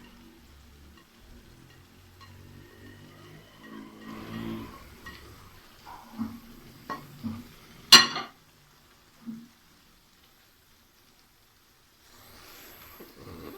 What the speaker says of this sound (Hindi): इसको मैं अच्छे से मिक्स करूँगा